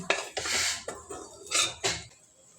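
Bitter gourd vegetable being stirred in a pan, a few close scraping and clinking strokes of a utensil against the metal, separated by short pauses, with no voices.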